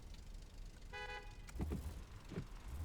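A car horn in the driving game Taxi Life Simulator gives one short, faint toot over steady road and engine noise, followed by low thumps in the background.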